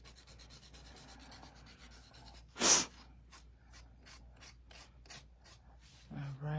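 A file roughs the edges of a nail sticker in quiet, rapid rasping strokes, close and soft, with a short louder burst partway through.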